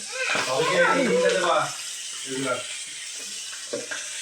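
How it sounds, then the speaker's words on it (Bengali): Pabda fish frying in hot oil gives a steady, hissing sizzle throughout, with a voice talking over the first half and brief remarks later. "বাপরে বাপরে কি ফোটা ফুটছে রে"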